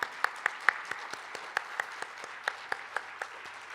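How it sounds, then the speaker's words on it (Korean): Sparse, separate handclaps ring out at an opening ceremony for a peace forum in Pyeongchang, faint and spaced irregularly rather than forming a full ovation. "다시 한번 큰 박수 부탁드립니다."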